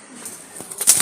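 Wild Jalali pigeons hop about and flap their wings in an enclosure, giving a few brief, close flutters and scuffles that grow busier toward the end.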